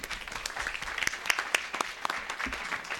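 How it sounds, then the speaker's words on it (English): Audience applause at a startup panel discussion, a fairly faint, scattered patter of clapping hands with a few sharper individual claps, steady for about three seconds. "Let's give her another round of applause."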